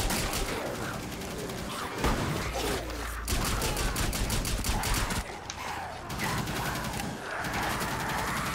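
Shotgun blasts and gunfire in the video game Operation Outbreak, loud dense volleys of shots overlapping in a continuous chaotic barrage with a few brief lulls.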